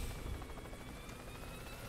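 A helicopter in the video game Worms W.M.D. whirs steadily with a continuous rotor drone, moderately loud and unbroken, without voices.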